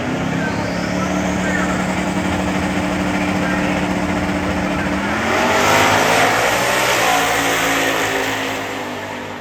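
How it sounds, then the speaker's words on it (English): A 2014 Mustang with a Coyote V8 and a Camaro drag race as street cars, their engines droning loudly, then surging in a rising rev toward the end, while an announcer talks over them. "Mustang versus Camaro in the lone pairing with 3 cars left."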